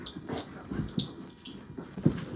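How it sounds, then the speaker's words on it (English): A puppy whimpers and yips in short, soft bursts over a low background, with several brief cries spread across a couple of seconds. "Take out the puppy."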